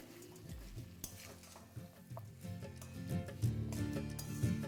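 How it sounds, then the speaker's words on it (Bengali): Bori lentil dumplings are stirred in a pan with ghee and a little sugar for papaya ghonto, with soft scraping and light clinks of a spoon against the pan over a faint sizzle, quiet and close. "এবার এই বড়িটা যতক্ষণ না হালকা একটু নরম হচ্ছে ততক্ষণ এটাকে এইভাবেই মেশাতে থাকুন।"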